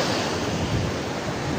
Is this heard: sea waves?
yes